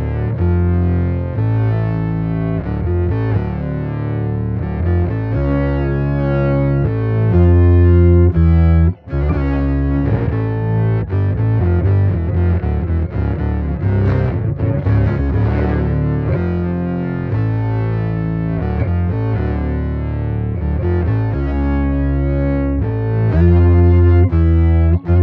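An electric bass runs through an MXR Poly Blue Octave pedal, its polyphonic tracking thickening chords and notes into a loud, continuous, distorted, chorus-tinged tone with no talking.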